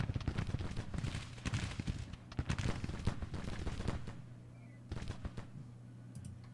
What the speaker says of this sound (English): Are we taking artillery fire?